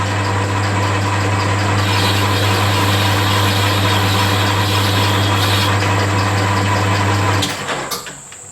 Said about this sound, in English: and then we're going to bore it out